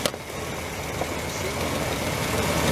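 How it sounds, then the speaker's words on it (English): An old 1996 Ford Ranger truck engine idles roughly up close, a dense broadband rumble with a rough, uneven texture throughout. "I want you guys to look at how this engine's shaking,"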